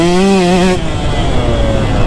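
A KTM 150SX two-stroke motocross bike revs hard on a practice track, its engine screaming loud and close, then turning to a rougher, choppier roar as the rider shifts and rolls through a berm.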